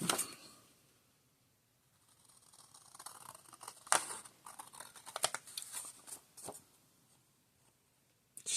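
Paper being cut with scissors while making a journal at a desk, heard as scattered close snips and rustles after a quiet start, growing busier toward the end.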